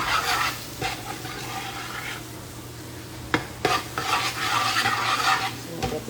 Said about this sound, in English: let me hit this up real quick and stir it on up